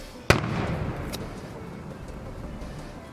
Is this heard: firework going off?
yes